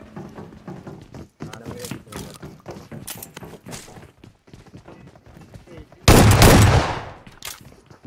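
BGMI gunfire: scattered sharp shots and short bursts crackle through the scene amid game noise, ending in a sudden, loud sustained blast of fire.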